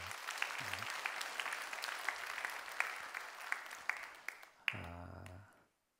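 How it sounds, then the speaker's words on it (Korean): Congregation applauding in a church service, a sustained wash of many hands clapping at a modest distance, joined by a few low voice sounds before it cuts off abruptly near the end. "박수 한번 해주셔요."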